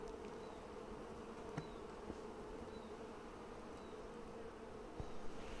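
Honeybees from a Flow Hive split hum in a steady, continuous buzz close by, with a few individual bees passing nearer now and then.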